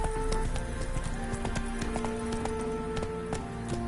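Horse galloping in a PS4 video game, with fast, rhythmic hoofbeats close up over steady game music and ambience.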